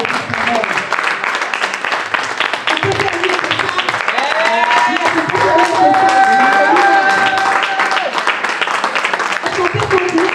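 A church congregation applauding to acclaim the Lord, sustained crowd clapping filling the room, with voices speaking and calling out over the applause.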